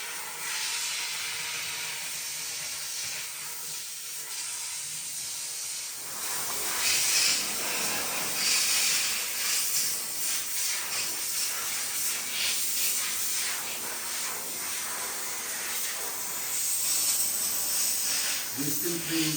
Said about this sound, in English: We clean every groove, gaps, and every fixture in the bathroom with the dry steam